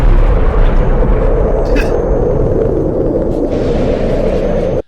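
A loud explosion sound effect plays during a Fortnite livestream, a sustained deep rumbling roar that fills the clip with heavy low-end energy and then cuts off abruptly.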